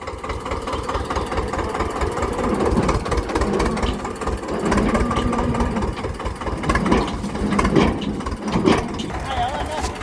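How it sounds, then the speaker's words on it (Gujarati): A steady tractor engine idles throughout with a low, even rumble beside a cotton field, while voices talk over it now and then. "હાલો ટ્રેક્ટર ઉભું રહી ગયું છે"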